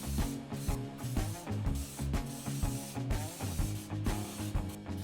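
A rattle can fitted with a wide nozzle lays paint onto a Sonoma S10 minitruck firewall, its soft hiss coming in a steady run of short passes over a low rhythmic background.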